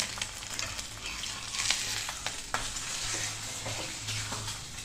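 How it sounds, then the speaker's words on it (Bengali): An egg poaching in a hot pan sizzles steadily and close by, with soft scrapes and taps of a utensil stirring now and then over a low hum. "ডিম পোচ হচ্ছে।"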